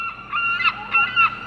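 A seagull calls at the shore with a short series of nasal, honking squawks, three or four close, loud bursts in an uneven rhythm with no other sounds around them.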